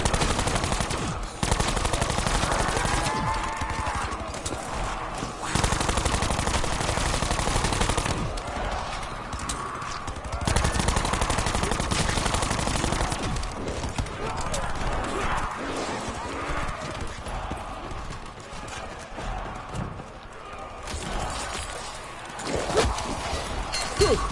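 Dense gunfire in the zombie mode of the video game Black Ops 4, continuous rapid shots running through the whole stretch mixed with game effects and noise, loud and busy throughout.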